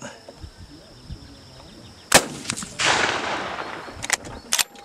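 A .303 rifle shot, from a 1940s Lithgow or Savage two-groove barrel rifle, cracks out sharply mid-clip, followed by bolt-cycling clatter and a few further metallic clicks, with nothing else sounding around it.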